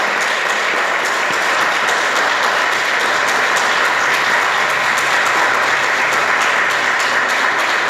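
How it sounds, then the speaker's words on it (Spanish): An audience gives a strong, steady round of applause, dense clapping sustained at even loudness throughout, at a storytelling event celebrating a workshop's 25th anniversary. "con un fuerte aplauso"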